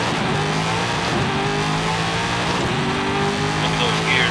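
A 1,000-horsepower turbocharged race car in Forza Horizon 5 accelerates hard from a roll, the engine note climbing and dropping as it snaps through several quick gear changes, loud and close with someone talking over it.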